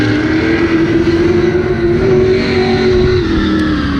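V8 race cars circle a figure 8 track in qualifying, their engines droning loudly and steadily with a sustained roar that swells slightly as cars pass.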